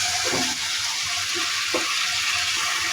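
Chicken pieces frying in hot spiced oil for a chicken roast, a loud dense sizzle close by with a couple of stirring bumps.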